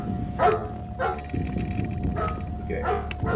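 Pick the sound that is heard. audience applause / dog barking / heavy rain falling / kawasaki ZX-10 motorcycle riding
dog barking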